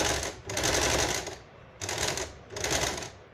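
A sewing machine zigzag stitches a shirt in three fast, even running bursts, each about a second long, with short pauses between them.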